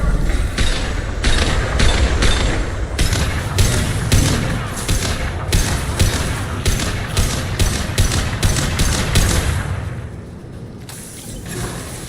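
Shotgun blasts in the video game Mass Effect 2 arrive as a dense run of loud, punchy bursts over a mechanical clatter of reloading and gear, dropping to a quieter tail near the end.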